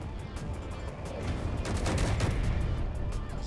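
Ship-mounted guns fire in the space combat game Space Engineers: a dense, rapid stream of thudding shots that builds and grows heavier midway, with no talk over it.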